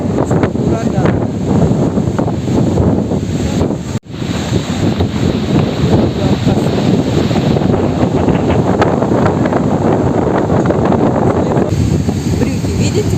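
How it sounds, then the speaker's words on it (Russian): Strong, gusting wind roars across the mic at a stormy seashore, with surf churning underneath; loud and continuous throughout, briefly dropping out once before resuming. "Какой ветер."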